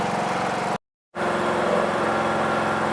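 An engine left running after a jump start in a barn, a steady loud drone with a rapid low pulsing, cut by a brief silent gap, no voices.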